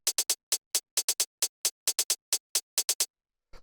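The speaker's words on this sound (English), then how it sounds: "this closed hi-hat, which sounds like this" Closed hi-hat from a warehouse techno track plays alone in a quick, slightly syncopated pattern of short, crisp, bright ticks, about seventeen hits over three seconds, followed by a brief low thump.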